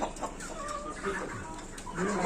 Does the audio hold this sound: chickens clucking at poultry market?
yes